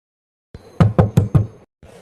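A person knocks on a door in a Tamil television serial, four firm, close knocks in quick, even succession after a brief soft shuffle, then quiet.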